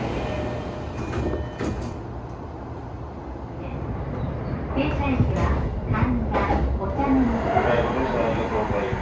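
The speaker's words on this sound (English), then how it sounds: "Let's board this train." A Tokyo train rumbles steadily nearby with rattling and clanks, growing a bit louder midway, while people talk in the background.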